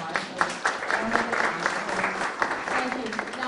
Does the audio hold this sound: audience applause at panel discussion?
yes